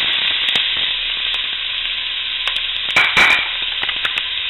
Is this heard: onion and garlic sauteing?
yes